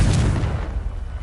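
Confringo fire blast spell from Hogwarts Legacy, a single loud booming burst with deep rumble that quickly fades over about a second, no voices.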